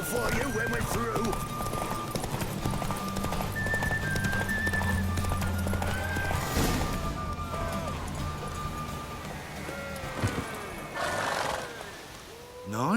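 Horse hooves pound in a race in The Witcher 3, the galloping steady and close with whinnies and neighs breaking through, while a voice talks over the rush of movement.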